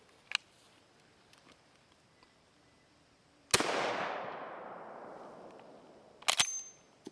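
A rifle fires a single blank round, one sharp loud crack with a long decaying ring-out, followed a few seconds later by metallic clicks and handling noise; no talk.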